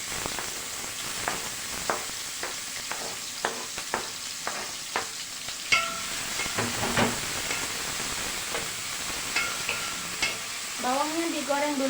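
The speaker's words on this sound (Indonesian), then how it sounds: "Dan lanjut saya goreng bawangnya dulu." Steady sizzling of onions frying in a little oil, with repeated scraping strokes of a spatula stirring the pan and occasional clinks.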